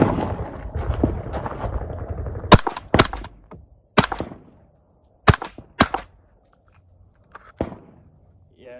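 Suppressed gunfire through an Otter Creek Labs Milkman suppressor: half a dozen sharp, spaced reports with short decaying tails outdoors, following a stretch of low rumbling background at the start.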